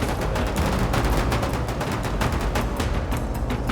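Rapid anti-aircraft gunfire in the war game Foxhole, a dense, continuous fusillade of overlapping loud bursts with deep booming thuds, sounding close and sustained without a break.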